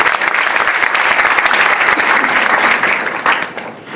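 A large audience at a talent award ceremony breaks into loud, dense applause that holds steady for a few seconds, then tapers off at the end.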